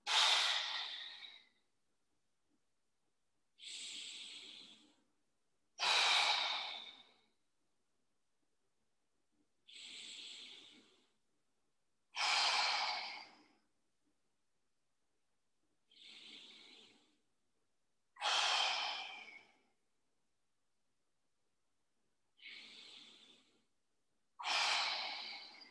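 Slow, deep breaths drawn during a guided mobility workout, about nine long inhale-exhale bursts spaced evenly a couple of seconds apart, close and clear with near silence between them.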